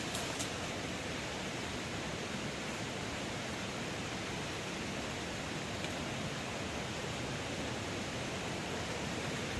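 A mountain waterfall heard up close on a trek, a dense, steady roar of falling water filling the whole clip without a break or any voices.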